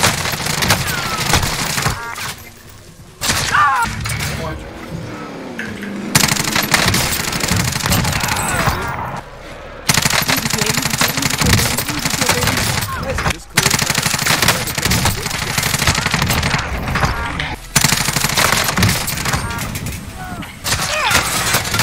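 Groza rifle fire in Warzone, fitted with a GRU suppressor, 16.2 GRU composite barrel and 45-round drum, crackles in repeated rapid bursts separated by short pauses amid other battle noise.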